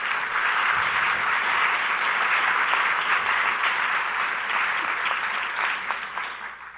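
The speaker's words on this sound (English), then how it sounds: "Can you guys give her a round of applause?" Audience at a community conversation on poverty applauding a policy director as she comes up, a full, sustained round of clapping that tapers slightly at the end.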